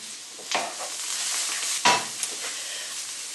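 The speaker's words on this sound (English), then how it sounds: "Oh, it sounds like it's burning." Food frying in a pan with a steady sizzle, sounding as if it is starting to burn, with a few sharper stirring scrapes and pops rising above the hiss.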